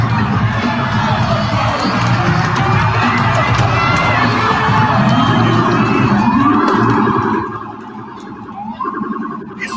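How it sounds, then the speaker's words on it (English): Protesters shout in a large crowd while an NYPD SUV pushes through them, a loud chaotic roar of voices mixed with siren-like wails that drops off somewhat near the end. "An NYPD SUV was caught on film bulldozing a crowd of protesters."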